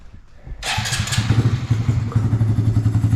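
An engine fires up for its first start after wiring work, with a sudden loud catch followed by a rough, pulsing idle up close.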